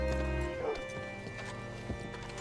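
Horse hooves clopping and a whinny from a horse in the video game Red Dead Redemption 2, heard close over a low steady hum and game ambience, with the clopping spread out across a couple of seconds.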